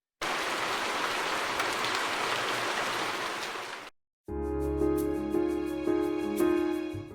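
Steady rain pours as a broadband hiss for about four seconds, then cuts off, followed by a different patch of rain with ringing, tonal drips and splashes, all loud and close with no voices.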